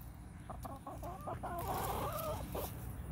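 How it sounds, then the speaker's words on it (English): Backyard chickens clucking and calling in short bursts, some close and loud, over a steady outdoor hum. "My chickens have decided to actually be velociraptors today and are pecking me."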